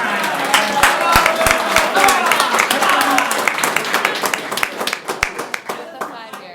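Applause and scattered cheering ring out at a county board meeting to encourage Amanda, with sharp claps building into a dense burst before thinning into separate taps, while voices carry underneath.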